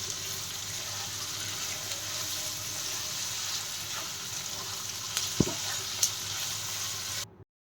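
Potatoes with salt and turmeric powder fry in a pan, giving a steady, moderate sizzle with a couple of sharp utensil clicks near the end before the sound cuts to silence.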